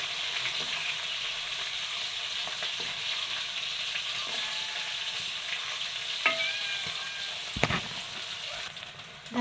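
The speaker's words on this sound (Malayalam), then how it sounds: "നല്ല ഫ്രൈ ആയി വന്നിട്ടുണ്ട്" Mackerel fish frying in hot oil for a pickle, a soft, steady sizzle with occasional pops and utensil clinks near the end.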